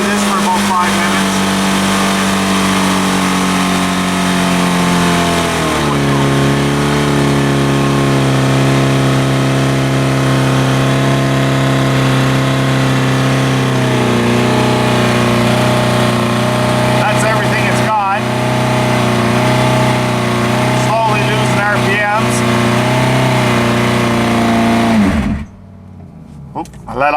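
A car engine running on brake fluid in its fuel holds a steady, loud drone, its pitch dropping in steps, then cuts out abruptly near the end when the throttle is released.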